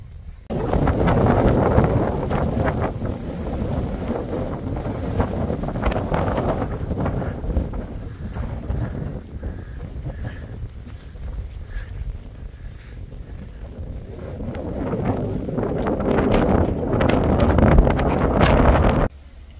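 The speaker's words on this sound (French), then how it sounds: "Il y a beaucoup de vent." Strong wind on the Via Francigena hiking trail buffets the microphone in loud, rough gusts that swell and ease over the whole stretch, with no voices.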